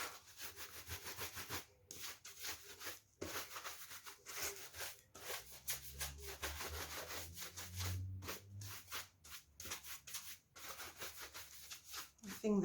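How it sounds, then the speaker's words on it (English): Glitter being shaken and tapped off a glass painting, giving a steady rustling, scratchy hiss with repeated rubbing pulses and brief pauses, close up and fairly quiet. "we're just going to shake off the excess and see what design we've got"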